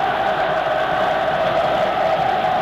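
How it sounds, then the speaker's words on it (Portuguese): Flamengo supporters roar and chant in a packed stadium during a 1992 Brazilian championship match against Vasco, a dense, steady, loud crowd noise throughout. "E a torcida do Flamengo procura empurrar o time à frente."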